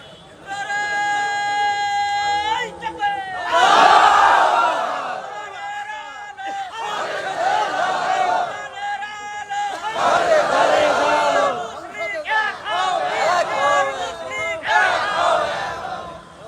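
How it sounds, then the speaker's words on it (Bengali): A large crowd at an outdoor Bangladeshi religious gathering chants slogans loudly in unison, with repeated call-and-response surges of many voices rising and falling in waves. "একটু স্লোগান দেন জোরে।"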